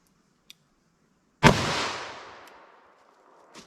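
A single sharp .357 Magnum gunshot from a 4-inch barrel firing a 158 gr lead semi-wadcutter hollow point into ballistic gel, loud and abrupt, followed by a long decaying outdoor echo, with faint clicks before and after.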